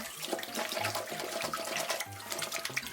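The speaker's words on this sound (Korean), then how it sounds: "깨끗한 물에 충분히 흔들어가며 헹군다." White sandals are swished and rinsed under running water, giving a steady close splashing and gurgling with small sloshes as they are shaken, and no talking.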